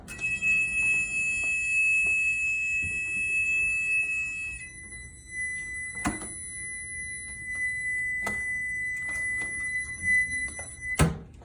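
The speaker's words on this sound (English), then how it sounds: "a way to turn off and on the alarm that sounds when the door opens" A continuous high-pitched electronic alarm beeps steadily from an AED cabinet with its door open, joined by a few dull knocks and thumps in the background.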